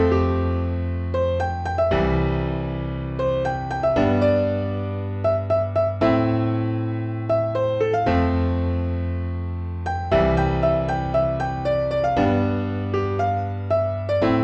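A minor-key chord progression with a melody on top, played sped up: sustained chords change roughly every two seconds beneath a stepping melodic line, steady and fairly loud throughout, no voices.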